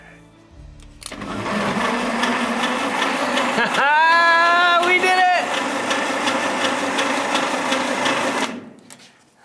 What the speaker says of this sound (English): Let's see if the engine will turn over.